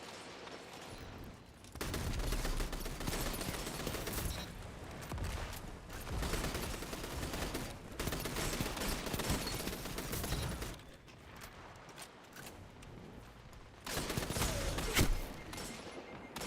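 Hand cannon fire in a zone-capture video game match, dense overlapping shots in long heavy bursts separated by brief quieter gaps, loud and sustained with no talk.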